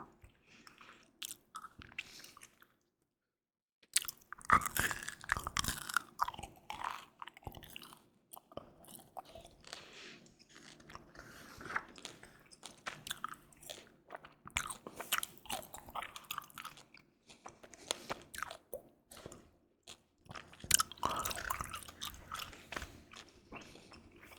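Gum chewed close to the microphone in a quiet setting, with wet, sticky smacks and soft crunchy clicks in an irregular rhythm after a short silent gap, no talking.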